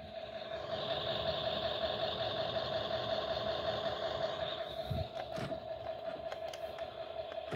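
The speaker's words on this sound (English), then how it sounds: "Listen to the engine, it sounds like a Ford Cummins." Motor hum of a Driven midrange R/C toy ambulance, said to sound like a Ford Cummins, runs steady and close throughout with a constant high electronic tone over it and a couple of brief thumps near the end.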